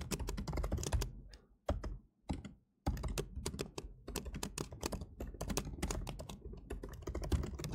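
Rapid typing on a computer keyboard while coding, a dense run of close clicks with two brief pauses near the start and then steady tapping.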